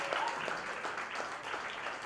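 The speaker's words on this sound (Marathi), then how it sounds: "हॉलमध्ये जवळजवळ 125 लोक तर असतील पण टाळ्या आहे ना फक्त 30-40 लोक वाजवत आहेत" Applause from roughly thirty to forty people in a hall at a Ganesh Utsav gathering, a steady, moderately loud patter of clapping that holds evenly for about two seconds.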